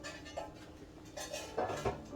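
Metal loaf pans are handled for greasing with butter, producing a few soft clinks and light scrapes in quick, faint succession without talk.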